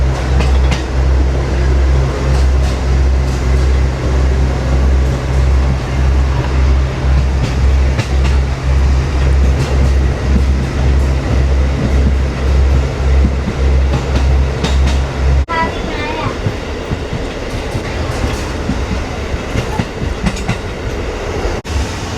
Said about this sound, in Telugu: ట్రైన్ మాత్రం మామూలుగా ఊగిపోవట్లేదు.